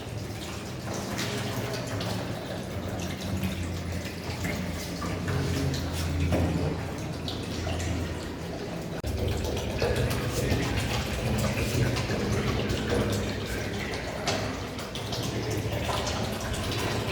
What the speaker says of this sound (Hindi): सबसे पहले हम इसमें डिस्टिल वाटर ऐड करेंगे वाटर बाथ में